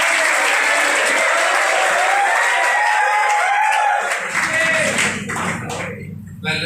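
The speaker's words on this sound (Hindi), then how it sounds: "तालियों के साथ स्वागत करें।" Audience applause welcoming a coaching centre manager at a Bhagat Singh commemoration function, a dense steady clapping crowd that fades partway through as a low hum and a voice come in near the end.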